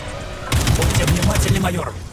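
An AK-47 rifle fires in the video game Atomic Heart: after half a second of quiet, a loud, close burst of rapid automatic shots rattles on steadily for about a second and a half, with no speech.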